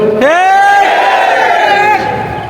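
A large crowd at a religious gathering shouts the Nara-e Takbir slogan in unison, a loud, sustained chorus of voices that rises together, holds, and tails off after about two seconds.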